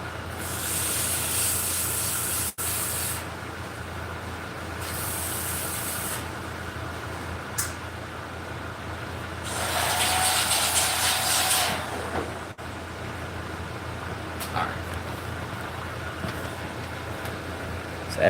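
Quick sanding of a computer mouse, with steady bursts of hissy, scratchy abrasion that start and stop in several strokes over a constant low background hum, no talking.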